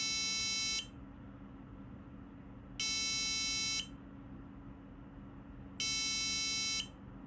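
EDU PICO buzzer module sounding the musical note A4: three steady, piercing electronic tones, each lasting about a second and separated by roughly two-second silences, loud and close with no voices.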